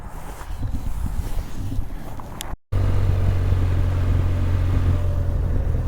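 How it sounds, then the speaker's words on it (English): A Benelli TRK 502 motorcycle's engine gives a low, steady burble while riding, partly masked by rushing wind noise after a brief cut-out. "The engine is a low burble,"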